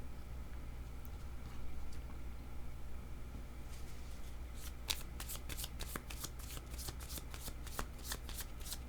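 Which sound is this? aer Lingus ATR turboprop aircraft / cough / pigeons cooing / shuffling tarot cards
shuffling tarot cards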